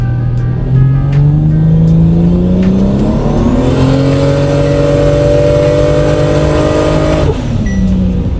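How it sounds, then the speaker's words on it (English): A tuned car with a new intercooler and screamer pipe revs through a long, loud, close pull, its engine note climbing steadily for several seconds before dropping off sharply near the end. "We'll do a little bit longer pull and make sure we can hear the screamer pipe and everything."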